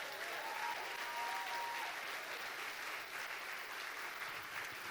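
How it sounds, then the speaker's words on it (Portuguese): A church congregation applauding during a service, a steady, even wash of clapping at moderate distance with a faint voice briefly rising above it. "Dê uma salva de palmas ao Senhor."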